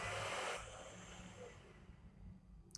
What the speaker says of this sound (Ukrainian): Запустився, вентилятори пропрацювали.